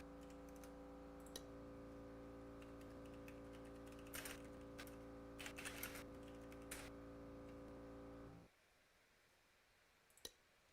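Computer keyboard typing during a Roblox racing league session, a steady run of light clicks over a loud constant background hum, with a few denser bursts of keystrokes before the hum cuts out near the end.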